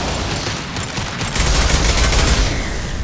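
Sustained gunfire in Mass Effect 2, a dense rattling burst of rapid shots that grows heavier partway through and continues steadily to the end.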